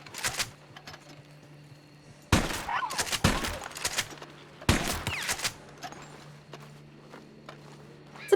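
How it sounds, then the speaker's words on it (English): Rifle shots from a pump-action varmint rifle in Red Dead Redemption 2, several sharp loud cracks in uneven bursts over a soft outdoor game ambience with faint footsteps. "Is that pump action varmint rifle?"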